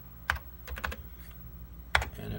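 Computer keyboard typing close by, a handful of distinct keystrokes in two short bursts with a pause between them.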